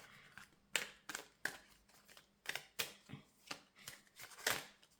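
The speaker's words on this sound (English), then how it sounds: "Your cards shuffle in a very chaotic and in a difficult way. They don't really like to be shuffled." Tarot cards being shuffled by hand, a run of quick riffling bursts and soft papery slaps in an irregular, halting rhythm, close and fairly quiet with no talking.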